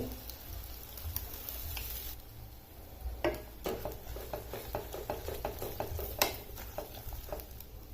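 Thanni chutney goes into a hot pan, giving a soft, close sizzle with light scraping and a run of small clicking taps from stirring.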